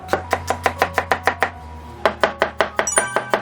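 A kitchen knife chops small amounts of celery on a cutting board while preparing fish chowder soup, giving two bursts of quick, evenly spaced chopping strikes, close and crisp, separated by a brief pause, with no voices.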